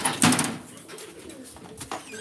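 Racing pigeons coo while being basketed for a race, soft low cooing with a few wingy rustles and scuffles close by.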